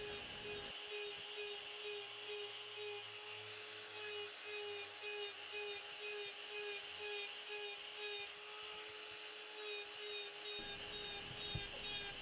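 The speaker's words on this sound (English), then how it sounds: "Using this conical carbide burr in this way, doing the texture in long ways around the piece, takes a very long time to do" A conical carbide burr carves texture lengthwise around a turned wood piece, giving a steady high whine with a low grinding hum underneath that runs for about ten seconds, then stops.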